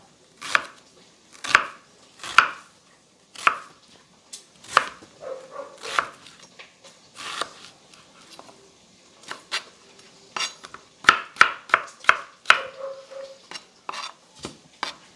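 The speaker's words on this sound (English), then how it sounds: "We'll just dice up this 1 onion." A large onion diced with a knife on a cutting board while preparing smoked rabbit chili, giving sharp, close knocks in irregular bursts, some quick runs of rapid chops, with brief pauses between.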